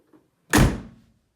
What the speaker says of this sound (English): with any luck, my hood should still close